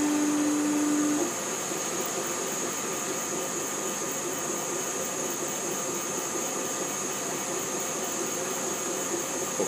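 A laser cutter runs at FabLab Sendai Flat in Sendai, giving off a steady mechanical hum and fan-like whoosh with faint high whine, constant and moderately quiet, after a brief tone at the start.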